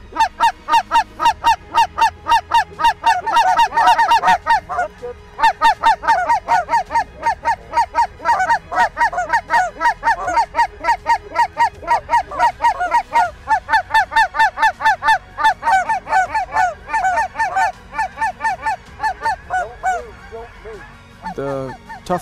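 A flock of Canada geese honking continuously during a prairie waterfowl hunt, many loud overlapping calls in a rapid, rhythmic chorus close by.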